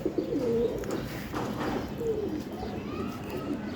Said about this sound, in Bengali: অনেক পরকাটা কবুতর আছে এখানে আমার।